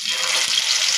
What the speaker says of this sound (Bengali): তেলের ভিতরে আমি একে একে ম্যারিনেট করা চিকেনগুলো দিয়ে দিচ্ছি।